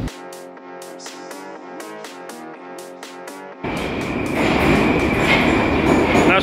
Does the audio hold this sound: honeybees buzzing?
no